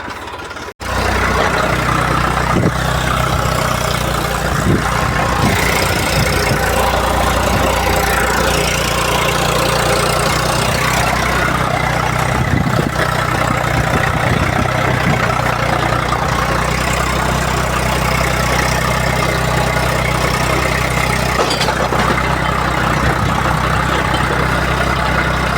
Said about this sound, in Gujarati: આપણે પાણી પીવા સારું ટ્રેક્ટર આપણે ઊભું રાખ્યું છે